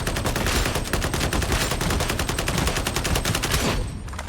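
Sustained rapid autogun fire in Warhammer 40k: Darktide, a dense unbroken stream of loud close shots for about four seconds, cutting off abruptly near the end.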